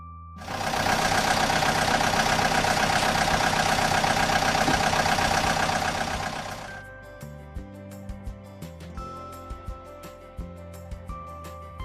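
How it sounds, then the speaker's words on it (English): An excavator engine runs loud and steady for about six seconds, a dense mechanical drone that then cuts off, leaving faint scattered clanks and tones at a distance. "Excavator."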